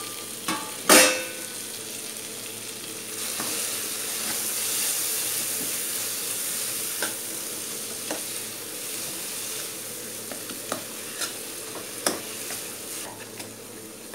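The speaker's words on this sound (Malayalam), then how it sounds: "5 മിനിറ്റിന് ശേഷം തുറന്നു കൊടുത്തിട്ട് ഇളക്കി കൊടുക്കാം." A tomato masala for a special chicken roast is stirred in a pan, a soft steady sizzle broken by sharp clinks and scrapes of the spoon against the pan, with no one talking.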